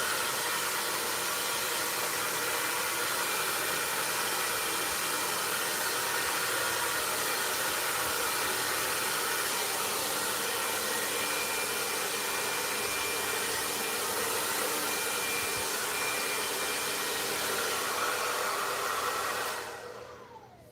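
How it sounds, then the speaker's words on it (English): Hair dryer blow-drying hair during a barbering session, a steady continuous airy roar close to the listener that holds evenly for about twenty seconds before cutting off abruptly. "So we got that all the way blow dried up."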